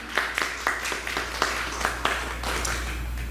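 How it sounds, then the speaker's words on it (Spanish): Congregation clapping in a church service, a loose group applause with distinct individual hand claps standing out in an uneven rhythm over a low steady hum, fairly close and moderately loud. "Dale un aplauso al Señor."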